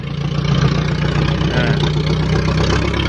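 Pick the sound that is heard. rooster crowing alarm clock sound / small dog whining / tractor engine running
tractor engine running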